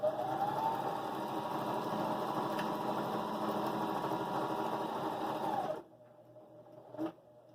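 A Husqvarna Viking Emerald 118 sewing machine stitches over a thick seam with a steady, close motor whir for about six seconds, then stops, leaving a quiet tail with a brief faint bump.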